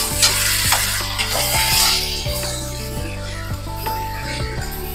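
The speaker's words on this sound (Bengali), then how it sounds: "আলুগুলোকেও মটনের সঙ্গে ভালোভাবে আরেকটু কষিয়ে নেবো" Potatoes and mutton stir-fried together in a pan for a mutton curry, with steady sizzling and a regular run of spoon scrapes and knocks against the pan, close and loud throughout, with no talking.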